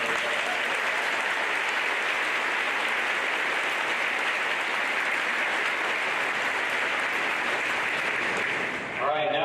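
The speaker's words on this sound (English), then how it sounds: "So another round of applause for everybody." Audience at an 8th grade celebration applauding, a sustained even wash of clapping that holds steady and cuts off near the end, where a voice briefly comes in.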